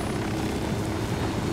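Steady helicopter rotor and engine drone in the Ghost Recon Wildlands video game, a continuous dense roar at constant loudness with no talking.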